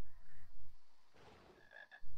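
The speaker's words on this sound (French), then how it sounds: "Oh, mais il y a même une grenouille." Frog croaking in a Harry Potter video game, low repeated croaks with a gap in between and a brief higher chirpy sound near the end, alone and fairly clear.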